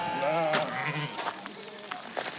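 Sheep bleat a few times at close range while being herded inside for the night, with voices talking over the calls.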